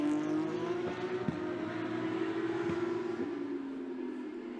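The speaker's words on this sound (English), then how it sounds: "The rest of the cars are crossing the line now." Porsche Carrera Cup race cars cross the finish line at the Nürburgring, a steady engine whine holding one pitch with brief whooshes as cars pass, fairly distant and without talk.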